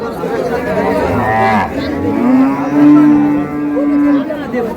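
A cow lows loudly and nearby at a rural cattle market in Dinajpur, Bangladesh, where cows with calves are sold, one long drawn-out moo over a background of chattering buyers and sellers.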